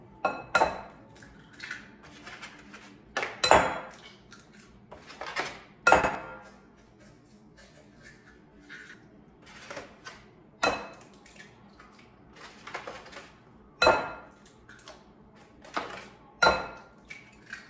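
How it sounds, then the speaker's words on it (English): Six eggs are cracked one after another into a bowl, giving sharp, separate taps and clinks at uneven intervals, heard close with quiet pauses between them. "I'm gonna use 6 eggs. Just gonna put them right in my bowl."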